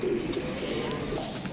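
Pigeons cooing in winter, a soft low murmur of several birds heard close, with a faint hum underneath and no talking.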